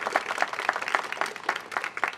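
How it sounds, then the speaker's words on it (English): Audience applause for the Chesapeake Shakespeare Company at a Howard County arts funding event, a steady patter of many hands clapping at moderate volume throughout, with no talk over it. "Can we please give the Chesapeake Shakespeare Company one more round of applause for welcoming us here tonight?"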